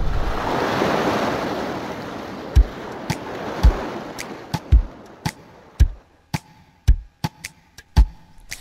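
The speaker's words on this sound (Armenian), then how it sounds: "Ձովում լովում է, ալիքներն ինձ վախեցում է։" Sea waves roar in a broad, steady wash for the first several seconds, then ease off into a series of sharp, separate thuds and splashes as the surf breaks, with wind noise on the microphone and no talking.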